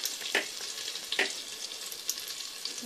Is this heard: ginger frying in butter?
yes